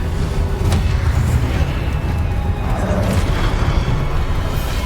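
Blasting curse explosions in the Hogwarts Legacy video game, a loud, continuous booming roar with dense low rumble and a couple of sharp cracks on top.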